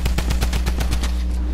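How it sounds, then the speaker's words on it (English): A drum gun fires in Fortnite as a rapid, steady burst of about ten loud shots in just over a second. The shots sit close and dominant over a constant low hum. "All I hear is drum gun!"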